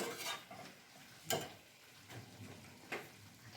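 A spoon stirs prawn and cabbage curry frying in a pan, making quiet, soft scrapes and clatters at irregular intervals over a faint, low background sizzle.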